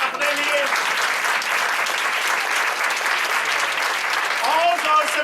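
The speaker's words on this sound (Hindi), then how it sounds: "जरा जोरदार तालियां पहले बजाएं अपने लिए" A church congregation at a Christmas service applauds loudly and steadily, a dense wash of many hands clapping throughout, with a few faint voices rising over it near the end.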